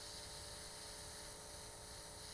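Airbrush spraying blue colouring through a stencil onto a cookie from a distance, a faint, steady airy hiss running continuously without pause, with no voices.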